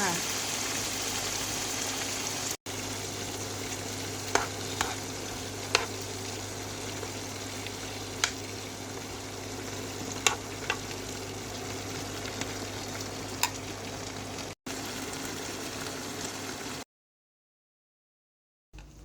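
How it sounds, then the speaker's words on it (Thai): Crickets deep-frying in a hot wok of oil with pandan leaves at a Pattaya market stall; a steady, even bubbling sizzle close by, with occasional sharp crackles and pops over a constant low hum. "ที่นี่เราก็ใส่ จิ้งหรีด นี้เอาไปทอดเลยค่ะ"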